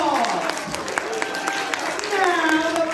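An audience claps at a Christmas magic show, a lively ragged applause that carries on beneath a performer's voice.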